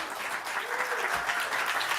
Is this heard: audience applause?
yes